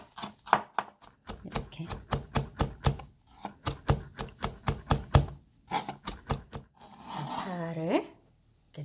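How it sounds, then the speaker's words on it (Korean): Knife finely mincing the white part of green onion on a board: a quick run of sharp, close chopping taps, then a pause and a second burst, with someone speaking briefly near the end. "파는 조금만 흰 부분을 곱게 다져서 넣어보도록 하겠습니다"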